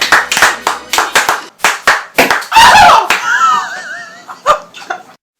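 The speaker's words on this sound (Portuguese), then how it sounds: "eu queria uma salva de palmas para ele" A round of hand clapping during a cooking show about churros, several loud, close, uneven claps in bursts, followed by laughter and a short stretch of voices.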